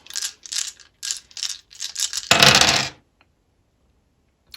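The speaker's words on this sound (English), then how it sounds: "I'm gonna get my dice here." Dice rattle in a series of short, rhythmic shakes, then tumble in one loud, dense clatter before stopping, followed by near silence and one faint click.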